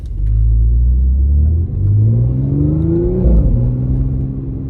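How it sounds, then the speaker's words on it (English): An Audi S5 (B8.5) stage 2+ engine drones low and loud, pulling up through the revs in a steady climb with a raspy exhaust note from an exhaust leak, no voices. "I'm starting to hear that exhaust leak open up a little bit more."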